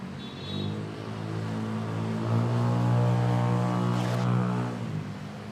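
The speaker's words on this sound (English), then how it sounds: "We have a Cebu Pacific flight arriving from Kawayan," A Cebu Pacific Airbus A320 arrives at Manila Airport. Jet engine noise carries from a moderate distance as a low droning roar with a falling whine, swelling to a peak midway and then easing off, with no one talking.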